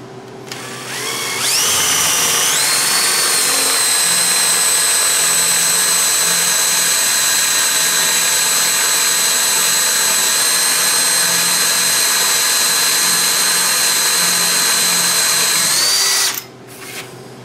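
A power drill spins up and bores steadily through a wooden baby gate part for about fifteen seconds, a loud, sustained whine holding pitch before spinning down near the end.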